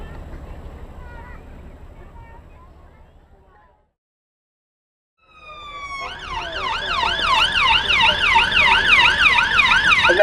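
An emergency vehicle siren sounds at a staged major incident during an Emergency Services Day at Brooklands Museum, rising after a short gap and then holding a loud, fast-sweeping wail close by, with crowd noise and talk earlier.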